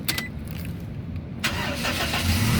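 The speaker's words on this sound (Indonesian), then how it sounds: "nih sekarang kita coba nyalakan mobil ya" A 2006 Toyota Kijang Innova 2.0 G automatic starts up: a brief starter crank catches quickly, and the engine settles into a steady, close idle with no talking.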